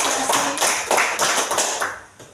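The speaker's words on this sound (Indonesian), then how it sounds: "mari kita tepuk tangan" A classroom of students claps hands together in a lesson, producing several rhythmic bursts of close, sharp claps in quick succession that taper off near the end.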